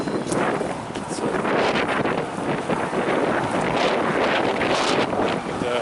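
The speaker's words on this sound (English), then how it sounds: "it's quite windy." Strong wind buffets the microphone with loud, continuous rumbling gusts while walking outdoors near the Guinness Brewery gate; the roar fills the whole stretch, with a voice faintly present beneath it.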